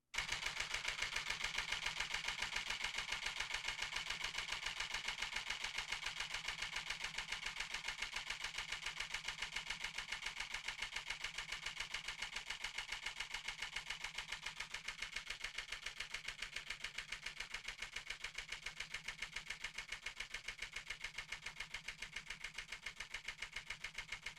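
A rapid, evenly spaced mechanical clatter of a mirrorless or DSLR camera shutter, Sony A7R III or Nikon D850, firing in continuous burst at about seven frames per second for over twenty seconds, close and unbroken.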